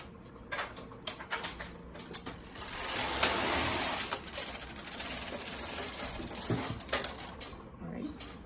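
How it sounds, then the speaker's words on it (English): A knitting machine carriage is pushed across one row of a hat's hem, starting with a few sharp clicks and clacks and then a sustained close mechanical rasping whir, ending in more clicks as the carriage stops. No one speaks. "I'm going to knit one row across"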